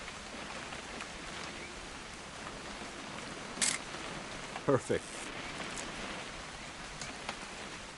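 Steady rain falls throughout a scene in the video game What Remains of Edith Finch, a constant wash under brief spoken lines and a few short clicks like a camera shutter.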